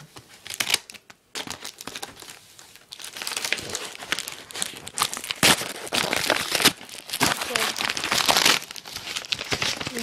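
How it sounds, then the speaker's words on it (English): Packaging crinkles and rustles in loud bursts while a package is opened with scissors, steady handling noise with sharp tearing crackles, close up and alone without talk. "Got the package from Cream Master 11, and I'm gonna unbox it."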